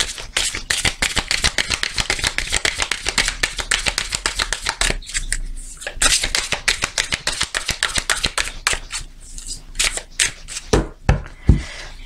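Oracle cards are shuffled in a fast, steady riffle of crisp slaps close by, then slow into a few separate taps and snaps as the deck is cut.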